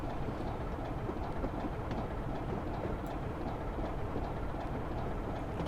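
A BR Class 25 diesel locomotive under way in a train simulator: a steady rumbling engine drone with rail clatter, constant and unbroken, loud and close with no talk.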